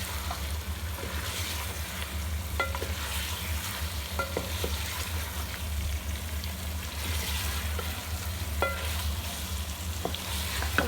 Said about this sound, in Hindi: अच्छी तरह चिकन के साथ इसको आपने मिक्स करना है।